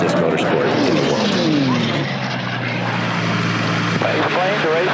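Race aircraft drone along an air racing course, a loud continuous engine roar with pitch sweeps as planes pass, while an announcer talks over it.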